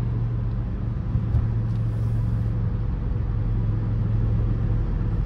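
A 2006 BMW M5 E60 with its engine running steadily while warming up, a close, constant low rumble with a steady hum and no revving, heard alone throughout.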